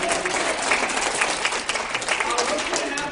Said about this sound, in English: First off, give yourselves a round of applause.